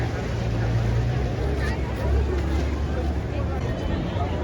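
Continuous low engine rumble and water wash from many boats near the Taj Mahal Palace Hotel, with a faint murmur of distant voices mixed into the steady noise.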